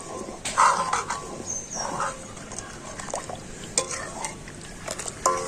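Rice flour is stirred into cold water in a bowl, with scattered clinks and soft scraping of a spoon against the bowl, close by and fairly quiet against a faint background hiss.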